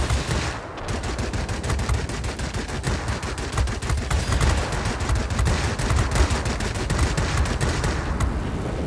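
Machine gun fire from World of Warplanes chatters in a long continuous rapid burst, loud and steady for nearly the whole stretch, with a brief dip near the start and no voices.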